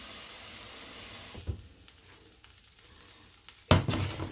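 An onion sauce sizzles and spits in a pan after water is added, quiet at first and then rising into a louder burst of frying near the end, heard close and without speech.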